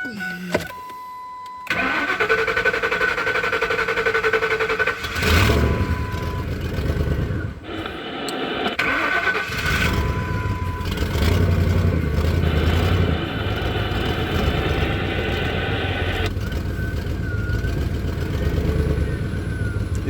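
A computer-controlled car engine running on propane cranks briefly, catches and settles into a steady idle with occasional throttle blips and rising revs, close and loud, with some mechanical whine on top.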